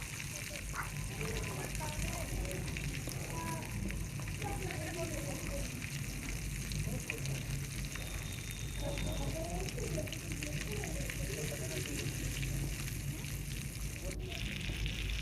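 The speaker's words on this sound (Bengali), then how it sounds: "এবার কড়াইতে তেল গরম করে, তেলটা গরম হয়ে গেলে মাছটা আমি আস্তে ছেড়ে দেব।" Spiced fish fries in hot oil in a wok, a constant dense sizzle and crackle with bubbling spatter, steady and close for the whole stretch while a voice talks over it.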